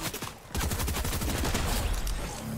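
Gunfire in the video game Fortnite: a dense, continuous volley of rapid shots that intensifies after a brief lull and stays loud throughout.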